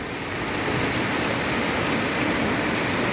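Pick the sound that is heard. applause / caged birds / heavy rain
heavy rain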